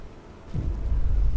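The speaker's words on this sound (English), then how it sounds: "The storm hits the city. A howling gale bursts upon the city" A howling storm gale strikes the city in the video game Frostpunk: a deep, rumbling roar swells in after a quiet moment and keeps building, loud and low, with no voices.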